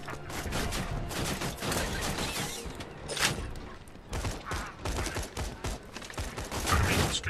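Rapid automatic gunfire in the video game Borderlands 2, dense bursts of shots and mechanical clatter firing continuously, fairly loud and close, with robotic enemies nearby.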